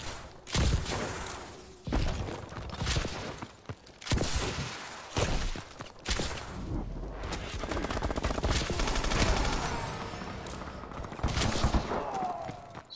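Rapid bursts of pistol gunfire in Call of Duty: Advanced Warfare, sharp clusters of shots separated by short gaps, loud and close, mixed with thuds and whooshing game effects.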